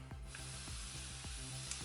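A spray bottle gives one quick burst of misting spray, a broad soft hiss that starts abruptly and continues faintly under a low background hum.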